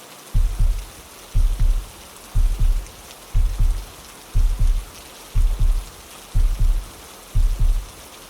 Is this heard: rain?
yes